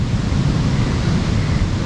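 Sea waves rolling onto the shore at Ladghar beach in Konkan make a steady, loud broadband wash, heavily mixed with wind buffeting the microphone, with no voices.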